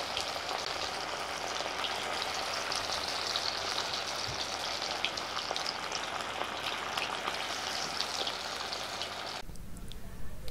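Chicken 65 pieces deep frying in hot oil give a dense, steady crackling sizzle close up, continuous for about nine seconds before cutting off.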